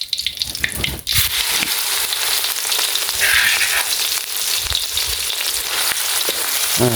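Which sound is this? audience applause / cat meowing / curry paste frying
curry paste frying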